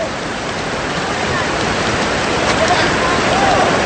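A downpour of heavy rain falls on a football pitch during Stallion Sta. Lucia FC against Loyola Meralco Sparks FC, a loud, unbroken wash of hiss that fills the whole stretch at steady intensity.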